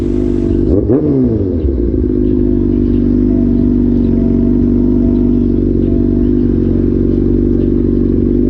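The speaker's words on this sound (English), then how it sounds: "I hear you revving the motors and stuff" A motorcycle engine revs sharply at the start, then settles into a loud, steady idle rumble close by.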